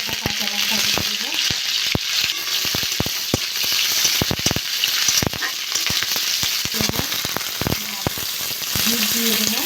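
Panch phoron fries in hot oil with ginger and green chili, a constant close sizzle broken by frequent sharp spoon clicks and scrapes against the pan as it is stirred.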